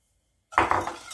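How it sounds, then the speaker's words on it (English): A spoon stirs milk and sugar in a pan, giving a short burst of close scraping and clinking that starts abruptly after a moment of silence, with no voices. "Just give this a quick stir."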